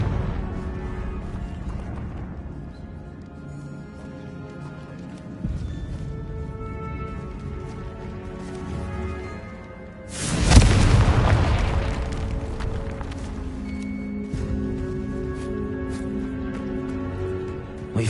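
A Confringo fire spell blast in Hogwarts Legacy, one sudden loud explosive burst midway, rising out of game music and ambience and decaying over a couple of seconds.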